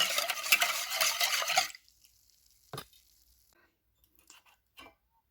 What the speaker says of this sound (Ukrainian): Я все це перемішую вінчиком, щоб цукор трішки розстав.